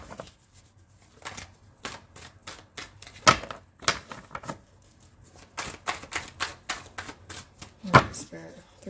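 Cards riffle and slap in quick bursts, several shuffles in a row with short pauses between, close by and fairly crisp.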